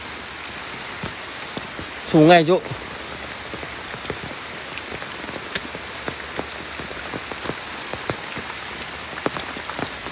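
Rain falls steadily through the forest on Gunung Salak, a dense, even hiss of drops on leaves and ground that continues for the whole stretch, broken early by a brief spoken phrase.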